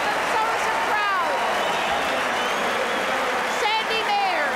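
Tennis crowd at a 1978 World Team Tennis match cheering and applauding, a steady loud roar of clapping and voices with whistles rising through it.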